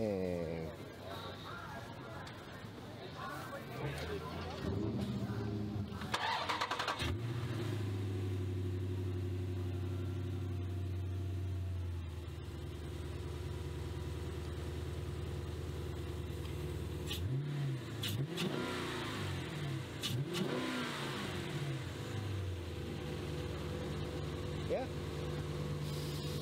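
A 6.4 Hemi V8 tuned by Sinister Performance revs up from idle with a deep, loud intake roar, holding steady and surging again later, close by with people talking over it.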